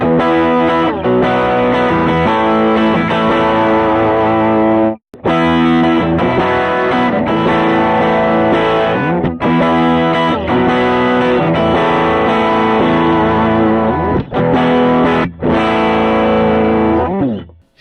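A Gretsch White Falcon hollow body electric guitar played through a Quad Cortex with overdrive, big chords strummed loud and continuously with brief gaps, a full, slightly chorused and driven tone, no talking.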